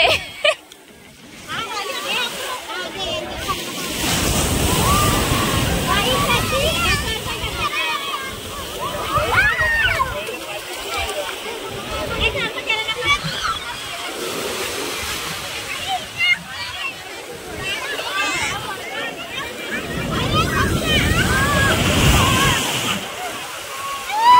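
Sea waves surge and splash at a beach in Bombay, loud, rolling washes of water breaking again and again close by, with people talking and exclaiming over the surf.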